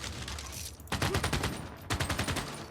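Units in Civilization 6 fire on an enemy encampment in two rapid bursts of crackling gunshots, a dense fusillade loud and close with a short pause between volleys.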